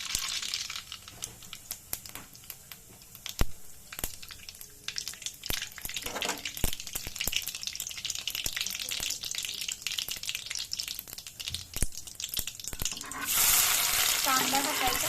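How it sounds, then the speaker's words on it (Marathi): Cumin and mustard seeds sizzle in hot oil, giving a steady crackling hiss with scattered sharp pops that grow louder and denser toward the end, with no talking. "तेल तापलेलं आहे, जिरे टाका"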